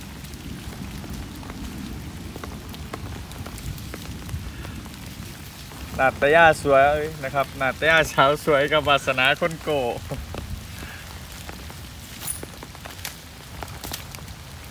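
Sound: rain falling

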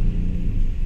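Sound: vehicle engine rumbling, sounding like a jeep

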